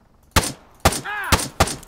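Four sharp rifle shots ring out in an Arma 3 firefight, spaced roughly evenly and loud up close, each with a short echoing tail, and a brief high whining tone sounds between the second and third.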